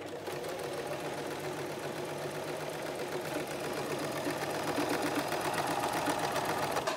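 An Empisal Creations domestic sewing machine runs steadily at a short stitch length, a continuous fast mechanical whir and clatter that builds slightly louder toward the end, with no talking.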